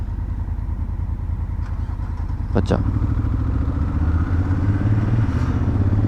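A motorcycle engine idling and rumbling on a road near İzmir, Turkey, a close, steady low throb that swells slightly louder partway through, with a brief clatter and a person speaking over it.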